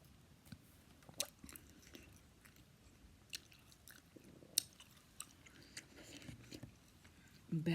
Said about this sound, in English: as I'm chewing on this candy and gum